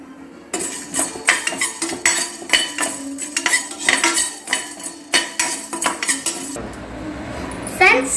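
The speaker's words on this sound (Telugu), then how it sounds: "ఇది ఆయిల్ లేకుండా ఫ్రై చేసుకోవాలి. మనము లైట్గా ఫ్రై చేసుకోవాలి." Ingredients dry-fried in a pan without oil for a country chicken curry, heard mostly as repeated close metallic clinks and scrapes of a utensil against the pan in an uneven rhythm.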